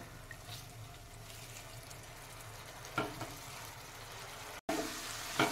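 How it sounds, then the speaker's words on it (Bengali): Spice paste for a rohu fish curry fries in a pan with a few spoonfuls of water, a quiet steady sizzle with occasional scraping stirs and a brief cut near the end. "মশলাটা এবার আমি কষিয়ে নেব।"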